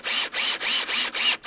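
A power drill drives screws into a deck railing, five rapid high-pitched whirring bursts with brief pauses between them, close and loud with no talking.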